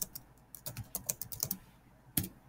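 Rapid clicky keystrokes on a computer keyboard, entering backtick characters while building a fill-in-the-blank quiz question, a dozen or so taps in an uneven rhythm with one sharp final key after a short pause.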